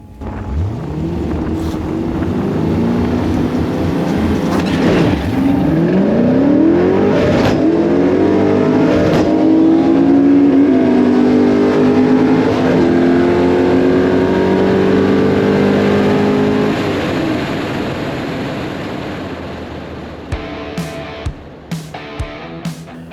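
A 1986 Fox Body Mustang with a manual transmission accelerates hard at a drag track. The engine climbs through revs with a clear gear shift, roars loud and close, then fades as the car pulls away.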